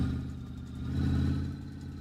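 Car engine in the video game My Garage with a failed exhaust manifold, running loud and rough in a steady droning growl that swells slightly in the middle, alone with no talk.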